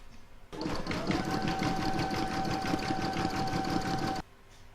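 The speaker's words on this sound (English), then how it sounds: "I'm now going to put that in my machine and stitch round number 3" An embroidery machine stitches vinyl held in the hoop, a fast steady mechanical chatter with a faint whine that starts abruptly, runs evenly for about four seconds, then stops.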